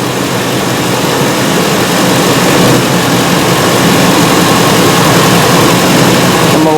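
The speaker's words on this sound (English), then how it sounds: "Misfire number 1 over here, like crazy over here." A Ford E350 van's 5.4L engine runs with a cylinder misfire, a loud, continuous rough idle with uneven low rumbling close to the microphone.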